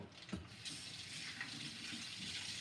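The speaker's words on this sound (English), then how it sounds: "I gotta rinse off these things" A kitchen faucet gushes continuously as measuring spoons are rinsed under it, starting after a brief knock and holding a steady hiss to the end, close by with no one talking.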